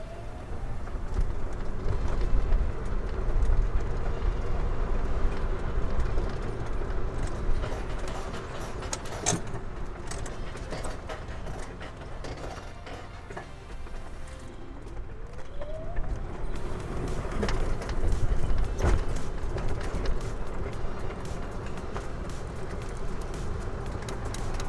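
A custom golf cart drives along on a test drive, with a continuous rumbling motor and rolling road noise, bumps and rattles throughout, and wind buffeting the microphone.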